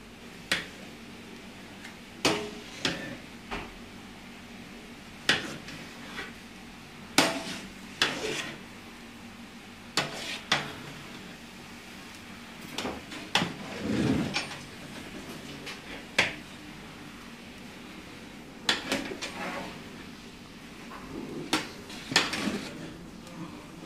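Rice for a large batch of chicken dum biryani is stirred in a big pot, heard as sharp, irregular clanks and scrapes of a ladle against the metal, spaced out over a quiet background.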